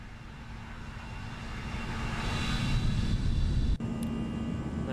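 Jet engines of an Airbus A320 in X-Plane 11 roar steadily as the simulated airliner climbs out of Palma de Mallorca, a broad whooshing drone that swells slightly midway, with a brief click near the end.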